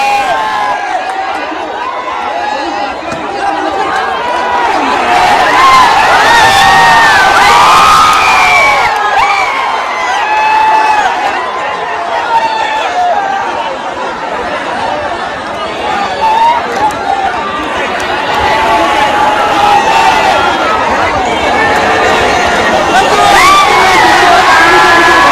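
Large outdoor crowd roaring and whooping at a bullock cart race, loud sustained cheering and shouting with surges of excitement across the whole stretch, voices of people calling out mixed in.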